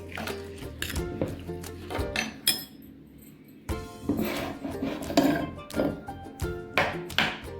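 A green chili pickle made with lemon juice and salt is spooned into a jar, with repeated clinks, scrapes and taps of a utensil against glass and a metal bowl, broken by a brief quiet pause.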